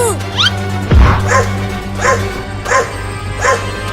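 A cartoon dog barks in a series of about five evenly spaced, loud woofs, each a short yelping burst, following a brief whistling sweep at the start.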